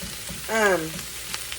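Cabbage fries in a skillet with pork chops, giving a steady close sizzle, broken midway by a brief rising, voice-like tonal sound.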